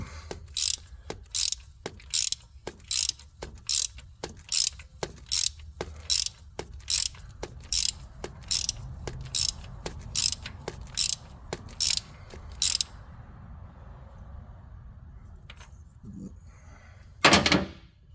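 Ratchet wrench tightening the thermostat housing bolt on a 2011 GMC Yukon Denali, a loud close series of about sixteen evenly spaced clicking strokes, then quieter handling noise and one last burst.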